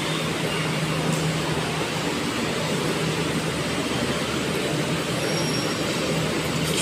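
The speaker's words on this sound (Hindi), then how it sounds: "मेट्रो आ गई" A Delhi Metro train rolls into the station with a dense, sustained rumble and rushing roar, steady and close throughout, no voices.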